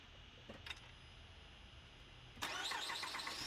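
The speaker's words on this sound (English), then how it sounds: "here we start the engine" A 2006 Honda Pilot 2WD engine cranks and catches at about the 2.4-second mark after a quiet stretch with a couple of faint clicks, then settles into a steady running sound close by.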